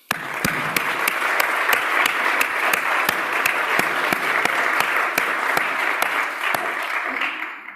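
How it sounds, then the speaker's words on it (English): Warm, sustained audience applause welcoming family members at a university professorship installation ceremony, dense steady clapping from a hall crowd holding even for several seconds before tapering at the end. "let's give a warm round of applause to welcome these family members."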